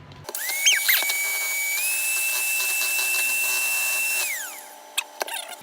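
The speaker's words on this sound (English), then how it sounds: "What you want to do now is you want to whisk up these egg yolks so they're nice and creamy." A steady high electric whine runs for several seconds as an electric whisk beats egg yolks, its pitch rising as it spins up and falling when it stops, followed by a few clattering knocks.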